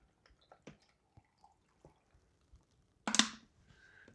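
Purified drinking water, a store-brand bottle, pours into a container of orange peels for homemade vinegar, a short splashing gush after a few faint drips and taps, then a light trickle fading out.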